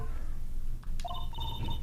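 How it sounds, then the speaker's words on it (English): A telephone in the Phoenix Wright: Justice for All video game rings with electronic tones that trill on and off above a steady low background hum, with no talk. "All of a sudden, the phone began to ring."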